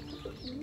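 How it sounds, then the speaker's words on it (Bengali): Pigeons cooing while feeding in a backyard poultry yard, a single brief, soft, throaty coo close by over low background noise. "এপাশে কবুতরগুলো এখনো খাবার খাইতেছে"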